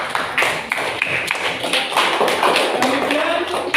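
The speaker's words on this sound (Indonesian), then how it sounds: "tepuk tangan untuk kelompok 1" A classroom of students gives a round of applause to group 1, a steady, fairly loud patter of many hands clapping that carries a few thumps and faint voices underneath.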